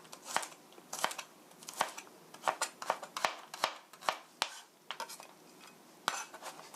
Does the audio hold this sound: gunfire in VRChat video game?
no